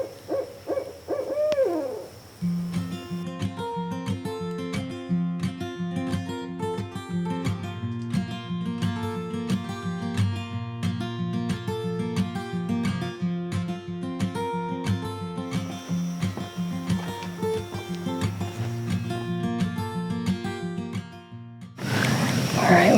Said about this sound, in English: All right, we found what's been making all that noise. There's an owl right there.